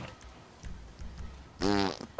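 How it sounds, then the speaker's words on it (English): A short, buzzy fart sound effect from the video game GTA blares out near the end, louder than the faint game noise and thumps before it. "You farted!"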